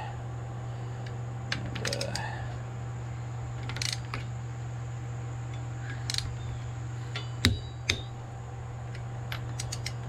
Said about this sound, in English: I went ahead and torqued these to 35 first, and then the final torque is 65 to 70.